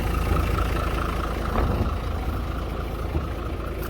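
Hino Victor J08E diesel engine idling in a converted Hino Dominator FC9J dwarf ten-wheeler truck with dry brakes, a steady, close, low rumbling idle running evenly with no talk over it.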